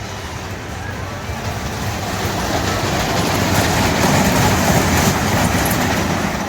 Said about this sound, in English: that coaster's been around a while. It could use a little bit of track work, a little bit of wheel work